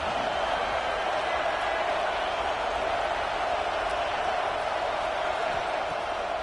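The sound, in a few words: stadium crowd cheering at football game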